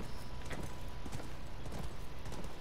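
Hooves of a horse clip-clop at a steady walking rhythm in the video game The Last of Us, close and fairly quiet, with no talk over them.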